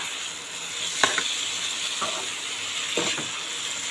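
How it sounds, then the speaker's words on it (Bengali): Boiled mushrooms sizzle in a spicy, oily masala in a pan while being stirred. A continuous close frying hiss is broken by three spatula scrapes about a second apart, with no speech. "এবার আমি মাশরুমগুলো দিয়ে দিচ্ছি।"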